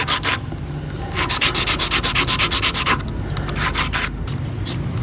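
Close, rapid back-and-forth rasping of a hand file shaping a stiletto-shaped false nail tip, in quick even strokes with short pauses between bursts, no talking.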